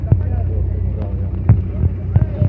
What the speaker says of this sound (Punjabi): ਆ ਦੇਖੋ ਜੀ ਇੱਕ ਹੋਰ ਟਰੈਕਟਰ ਆ ਗਿਆ